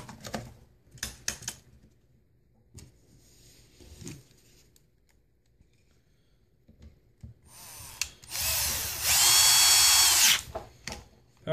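A power drill whirs in a loud, sustained burst lasting a couple of seconds during a starter repair on an Echo SRM 2100 trimmer, preceded by scattered clicks, taps and handling noises in a quiet room.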